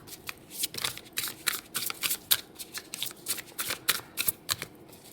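Tarot cards being shuffled close up, a steady run of crisp riffling and flicking bursts with no talking over them.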